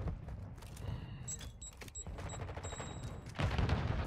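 Gunfire in Modern Warfare 2 ranked multiplayer: a run of sharp shots and bursts with a faint mechanical whine mid-clip, then heavier, louder shots near the end.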